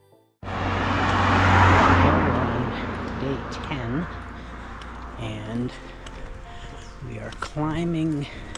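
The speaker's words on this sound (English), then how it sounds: "And look at the traffic." Road traffic on the Pan-American Highway in Costa Rica, a steady roadside roar of passing cars, buses and trucks that swells early and stays loud, with voices talking over it.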